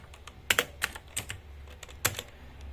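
Computer keyboard keys tapped while entering VLAN configuration commands in a networking lab: scattered, close keystrokes in small bursts with short pauses, no talking.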